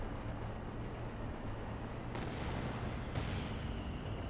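In Company of Heroes 2, an artillery barrage pounds the battlefield, distant booms and sharp explosion cracks landing over a steady rumble, with two strong impacts standing out.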